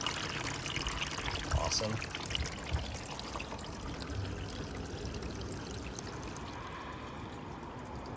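Water runs through newly installed vinyl gutters during a flow test, making a steady, broad rushing wash that continues throughout. Someone speaks briefly over it.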